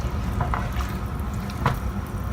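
Hot water poured into a pot of boiled kala chana with sautéed tomato and onion, a steady close liquid splash and gurgle running the whole time with a couple of brief brighter spatters.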